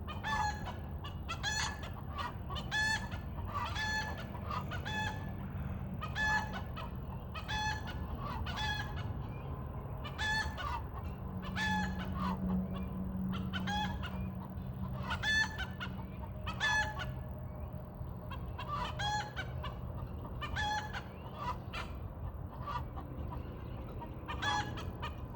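Chickens cluck and squawk repeatedly in a loud, rhythmic series of calls around a hen laying an egg, the bursts coming close together and fairly near, with no talking.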